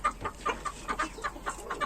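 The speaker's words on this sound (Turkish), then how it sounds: "Bakın tavuğunu çağırıyor." A rooster gives a run of rapid, rhythmic clucking calls, repeated steadily and heard fairly close with no other sounds.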